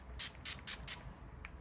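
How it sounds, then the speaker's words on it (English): Four quick hissing sprays of Urban Decay makeup setting spray in an even rhythm, close up, followed by a fainter short spritz. "I would like to spray again with some"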